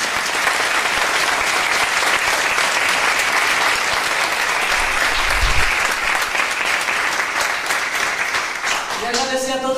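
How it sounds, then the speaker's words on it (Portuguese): A theatre audience breaks into loud, continuous applause after a stage show, the dense clapping holding steady throughout, with a brief musical tone rising near the end. "Uma salva de palmas."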